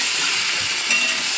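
Four green chillies frying in a pan of hot oil for an egg curry, giving a steady close sizzle and hiss that continues without a break.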